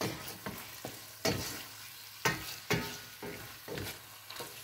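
Pancit noodles stir-fried in a pan, with a steady sizzle broken by repeated scraping and tossing strokes of a utensil, close and fairly loud, and no talking.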